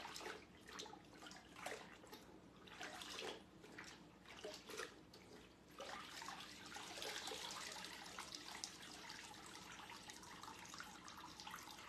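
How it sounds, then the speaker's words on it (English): Wet fabric is lifted and sloshed out of a basin of water, with faint splashing, dripping and trickling in uneven bursts, quiet and close. "let me get the fabric out of the water"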